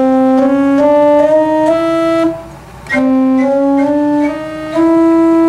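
A pipe organ principal stop plays a slow, steady melody of sustained notes, with a brief gap in the middle; bright, full tone, no voices.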